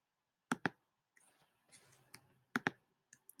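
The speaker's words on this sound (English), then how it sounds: "You're going to right click." Computer mouse right-clicks, close and crisp: two quick double-click pairs, with a few faint softer clicks and light handling noise in between.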